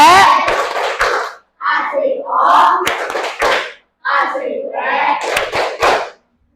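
Children in a classroom chant together in a rhythmic pattern punctuated by sharp, sync claps, loud and close, in several bursts separated by brief pauses.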